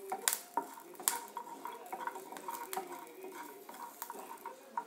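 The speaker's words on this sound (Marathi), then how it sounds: "थोडा खोबऱ्याचे काप करून घेतलेले आहेत मी। त्यानंतर ही मिरची, थोडं तेल टाकून घ्यायचं" Coconut slices and green chilli frying in a little oil in a pan, with a soft steady sizzle broken by sharp clinks and scrapes of a spoon stirring against the metal.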